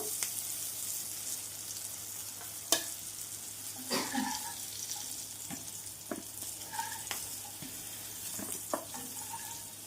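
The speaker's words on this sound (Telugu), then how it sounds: "ఇలా మీడియం మంట మీద వేపుకుందాం పచ్చిమిరపకాయలు కూడా అన్నీ చక్కగా వేగిపోయినాయి చూడండి" Green chillies frying in oil over a medium flame while preparing dried prawn chutney, with a steady faint sizzle throughout and occasional sharp clicks and scrapes of a spatula.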